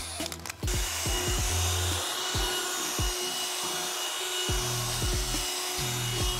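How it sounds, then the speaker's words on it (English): A motorized drill brush whirs steadily while bristles scrub carpet, with repeated rhythmic pulses as it is pushed back and forth, loud and close. "I like to use a drill brush, it's more efficient"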